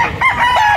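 A rooster crows close by, one loud drawn-out call with rising and falling pitch, standing alone.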